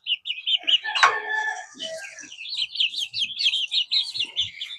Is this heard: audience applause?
no